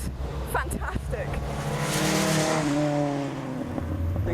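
A Ginetta G40R race car with no driver aids drives on a track, its engine revving and droning loudly and steadily up close, rising in pitch as it accelerates, while someone talks over it.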